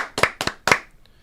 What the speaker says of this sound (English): 5 claps